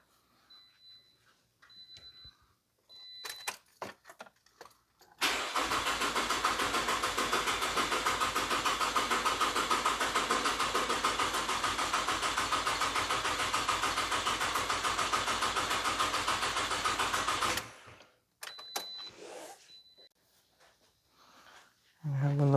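A 2009 Pontiac Vibe GT with a 2.4 engine, just after an oil pan replacement, cranks over steadily for about twelve seconds with an even, loud whirring drone, then falls quiet, followed by brief stuttering attempts.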